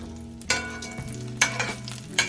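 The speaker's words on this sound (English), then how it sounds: "So let's get these all fried up." Cod fish cakes sizzle and crackle steadily in a hot pan, with a few louder bursts of spitting oil and scraping as they are turned, close up and with no talking.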